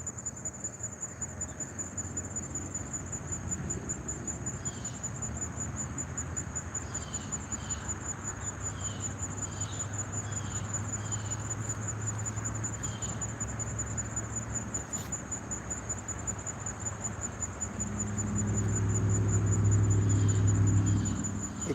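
Crickets chirp at night beside a fishing spot, a dense, constant high trill from countless insects with a low hum underneath that swells near the end.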